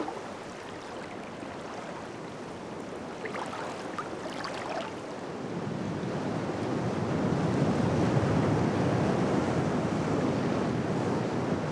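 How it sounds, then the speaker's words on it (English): Surf breaks on a remote Polynesian reef shore, a constant distant roar of waves that builds louder in the second half, with some wind and no voices. "The roar of the distant surf is a constant reminder of the power of the ocean."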